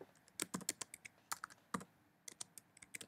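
Typing on a computer keyboard while entering a folder name, with irregular bursts of close, crisp key clicks and short pauses between them, no voices.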